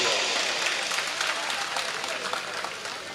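A live comedy audience breaks into loud, dense applause, a continuous wash of many clapping hands with a voice speaking over it.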